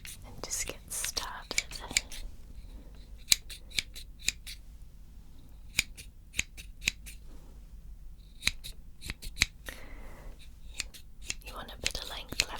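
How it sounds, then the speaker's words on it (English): Close, crisp snips of barber scissors cutting hair in a barber shop setting, coming in quick clusters of several clicks with short pauses between, over a very quiet background. "I'm just gonna use my scissors here and just get started."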